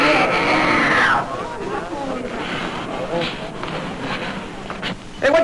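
Several people scream loudly for about a second in an indoor drama class setting, then the screaming drops into a steady murmur of overlapping voices and commotion.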